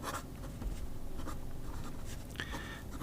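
An Omas Gaiva fountain pen with a 14 karat fine nib scratches across paper in soft, continuous strokes with brief pauses, quiet and close with no talking.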